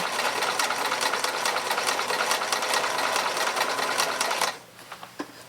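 A sewing machine stitches at a steady rapid pace for several seconds, close and moderately loud, then stops, leaving a few faint clicks.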